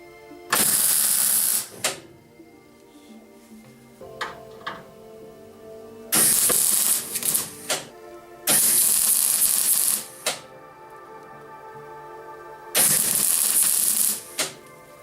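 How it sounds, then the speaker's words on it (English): Welding pillar bases onto the rocker of a 1966 BMW 2000c, with four long bursts of sharp crackling and hissing, each lasting one to two seconds, broken by short clicks and quiet pauses between them. "Welding is done."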